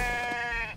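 Goat in the survival video game The Infected giving a single short, clear bleat, close and alone.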